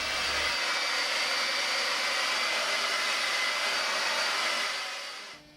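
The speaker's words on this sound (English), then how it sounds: "I need to hit it with a hairdryer." Hairdryer blowing steadily at close range to dry wet gray sky paint on a Rufus Porter style mural, a loud continuous whooshing roar that holds level for about five seconds before tapering off.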